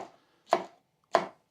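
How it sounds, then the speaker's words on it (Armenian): Knife chopping peppers on a cutting board, heard as two sharp, close chops spaced about half a second apart, with a faint trailing tap at the start and quiet between strikes. "Դե սա բիբարը կտրատենք, հետո կանաչին։"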